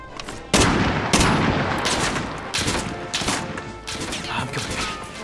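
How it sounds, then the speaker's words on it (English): A Dragunov semi-automatic sniper rifle fires in a video game, about eight sharp, loud, booming shots at an uneven quick pace, each followed by a ringing tail. "Or there's the semi-auto rifles, like the Dragunov, which trades its power for fast rate of fire, letting you spam the trigger to your heart's content"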